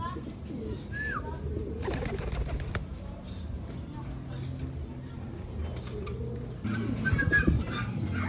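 Free-flying pigeons cooing outdoors, several soft low coos repeated through the moment while a person talks to the birds nearby.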